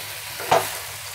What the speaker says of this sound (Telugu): మూత పెట్టి ఒక 5 నిమిషాలు వంకాయ టమాటా మగ్గేదాకా ఫ్రై చేసుకుందాము